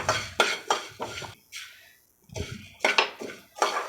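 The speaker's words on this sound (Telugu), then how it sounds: "ధనియాలు వేస్తున్నాం ఇప్పుడు మిరియాలు వేసుకోవాలి" Coriander seeds and black peppercorns being dry-roasted in a pan, with loud close rattling and scraping bursts as the spices are stirred and tossed, broken by a short quiet pause midway. No talking.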